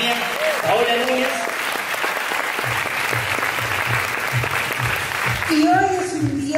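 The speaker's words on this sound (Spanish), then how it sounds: "por favor, un fuerte aplauso para la próxima reunión de la compañía, Paola Núñez." Audience applause at a company business-training event welcoming a speaker, steady dense clapping filling the whole stretch, with some voices and whoops mixed in near the start and end.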